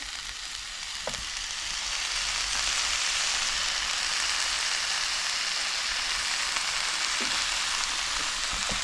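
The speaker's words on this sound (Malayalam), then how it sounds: "ഇതിലേക്ക് ഞാൻ വൃത്തിയാക്കി വെച്ചിരിക്കുന്ന കണവ ഇട്ട് കൊടുക്കുകയാണ്" Cleaned squid fries in a pan for a Kerala-style roast, a dense, loud, rain-like sizzle that swells after the first second and holds steady, with a couple of faint utensil taps.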